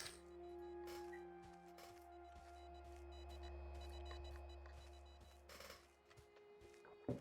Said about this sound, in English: it's sending out messages. It sounds like Morse code.